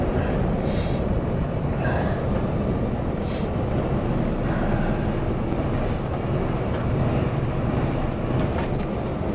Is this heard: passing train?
yes